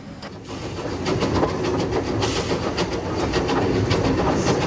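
Terrier steam locomotive backing onto its train at Havant on the Hayling Island branch: a steady rumbling rolling noise with faint rhythmic clanks and hiss, continuous and fairly close, with no voices.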